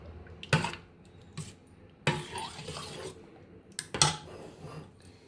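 A spoon stirs a pan of bread, sago, fruit and milk dessert, giving a few distinct scraping and clinking bursts with quiet gaps between them, close and fairly soft.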